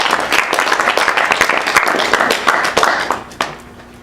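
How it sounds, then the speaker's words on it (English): Audience applause for a panelist at an employer panel discussion, a burst of brisk clapping from a modest crowd that thins and fades near the end. "Can we get a round of applause for Emily?"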